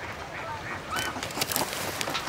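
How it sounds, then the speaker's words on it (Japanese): Swans call at a feeding spot with several honking, trumpeting cries over busy outdoor background noise, some close and some farther off. "白鳥さんだ。"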